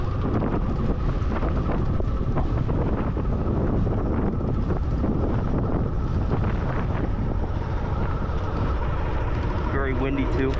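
Strong wind buffets the microphone during a bike ride, a constant loud rumbling roar throughout, with a voice briefly heard near the end.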